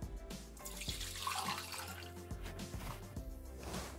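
Water is poured into a Thermomix bowl, a steady splashing stream with gurgling that continues for a few seconds.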